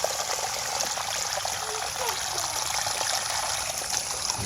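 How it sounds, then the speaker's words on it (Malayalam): Spring water runs down a small waterfall after rain, a continuous close trickling and splashing flow, steady and fairly loud throughout. "മഴ പെയ്തിട്ട് ഉറവ് വെള്ളം വരികയാണ്"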